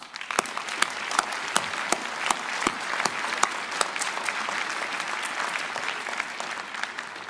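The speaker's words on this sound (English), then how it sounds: "let's give ourselves a big hand of applause" Graduates and guests at a commencement ceremony give a big round of applause, dense continuous clapping with sharp individual claps standing out, steady throughout.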